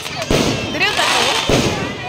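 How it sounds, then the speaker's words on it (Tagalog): Christmas fireworks in Sarangani popping in two sharp bursts over a dense wash of crowd noise and cheering voices, close and loud. "Fireworks!"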